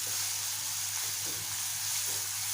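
Chopped onion being sautéed in a pan until soft for a sprouted moong dish, giving a steady, close hiss and sizzle of frying throughout with faint stirring movements underneath.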